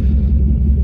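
A 1994 Jeep Grand Cherokee Laredo 4x4 with a V8 engine idles with a deep, steady rumble, close and loud over a very short stretch.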